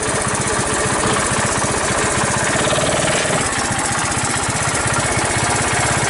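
A 1981 Honda ATC185S three-wheeler runs close and loud with a rapid, choppy single-cylinder engine pulse, holding a steady rough drone throughout the ride.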